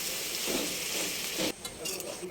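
A Bengali curry being sautéed in a pan gives a close, steady sizzle broken by stirring scrapes, briefly cut off near the end.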